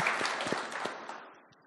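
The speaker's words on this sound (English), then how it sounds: "Let's clap it up for Ralph." Audience applause for a guest joining a panel discussion, a broad wash of clapping that starts strong and gradually thins and fades over under two seconds.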